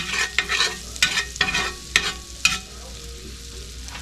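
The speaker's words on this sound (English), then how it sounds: "Olive oil and butter. Kind of mix them together in the skillet." Olive oil and butter stirred together in a skillet, a spatula scraping and clacking in repeated strokes over a faint steady sizzle, close by and with no one talking.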